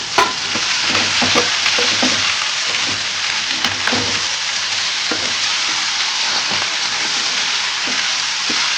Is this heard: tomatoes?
yes